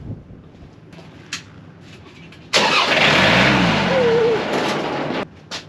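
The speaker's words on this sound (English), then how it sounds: "Just kind of bump that starter and let the engine kind of turn over for a second" An engine cranked on the starter catches and fires, following quiet moments with faint sounds, then runs loud and close for about three seconds before cutting off.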